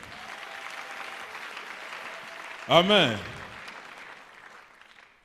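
A church congregation applauds in a steady, dense wash of clapping. A loud voice briefly calls out over it partway through, and the applause then fades.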